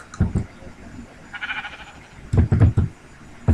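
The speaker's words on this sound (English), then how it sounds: "Oh, sheep." Sheep bleating in Minecraft, a few short wavering bleats near the middle between thumping, clattering game sounds and bursts of noise, fairly close.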